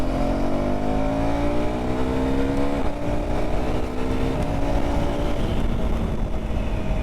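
A KTM Duke 390 motorcycle riding at speed near 100 km/h produces a loud, continuous engine drone with rising revs and a couple of gear-shift dips, steady wind rush underneath and no talking.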